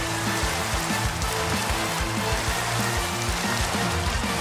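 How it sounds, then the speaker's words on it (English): Constant rain from a Rain Dance move pours steadily in a Cobblemon battle, with a dense hiss over repeating low tones of game music. "Oh, he used a rain dance."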